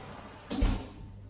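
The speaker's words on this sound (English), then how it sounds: "If you wouldn't mind just shutting the door" A kitchen oven door swings shut after a baked apple cake is removed, giving one short muffled thud against a quiet room background.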